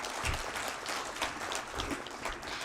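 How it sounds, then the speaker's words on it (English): Audience applause at a valedictory event of a Civil 20 India 2023 working group conclave, a steady patter of many hands heard fairly faintly from a distance, with no voices over it. "Let's have a round of applause"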